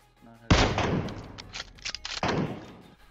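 A sniper rifle headshot in PUBG Mobile goes off as a sudden loud crack, followed by a dense rumbling tail and a second burst of gunfire and impacts, with no talking.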